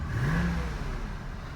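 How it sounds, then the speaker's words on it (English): A 2003 Cadillac DeVille DHS engine revs up and then eases back, a loud, close mid-pitched rise and fall of one throttle blip with no one talking. "When I rev the engine"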